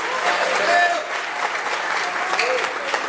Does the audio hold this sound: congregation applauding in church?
yes